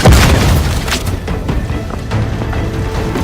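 Booming explosion from combat in the video game Outer Worlds 2, a loud initial blast that rolls into sustained rumbling debris and crackle over roughly three seconds.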